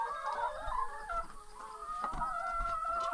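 Laying hens cluck in a farmyard: a lively, overlapping chorus of clucks and calls at moderate distance, with no talking.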